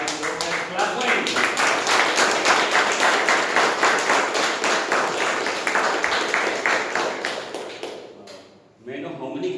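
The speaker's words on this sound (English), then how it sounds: "Very nice joke and clap for him." A meeting audience claps for a speaker's joke: steady, moderately loud rhythmic applause that carries on for several seconds, then fades out before a voice begins to speak.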